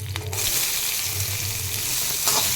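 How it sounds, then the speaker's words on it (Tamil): Onions sautéing in oil with curry leaves and green chilies for a toddler's upma, a steady close hissing sizzle with a low hum from the stove underneath and a faint stir or two. "வெங்காயம் கொஞ்சம் நல்லாவே வதக்கிக்கோங்க"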